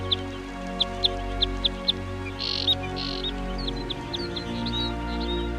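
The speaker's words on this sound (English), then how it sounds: "Flocks of tiny birds seek safety in numbers and congregate in a larch tree beneath" Flock of tiny birds calling from a larch tree in winter: a run of short, high chirps repeated in quick succession, then scattered tweets, over a steady low background rumble.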